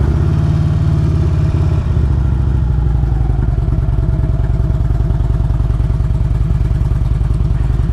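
A Harley-Davidson Road King motorcycle exhaust heard through headphones: a steady, loud low rumble with rapid rhythmic pulsing that holds throughout, no talking over it.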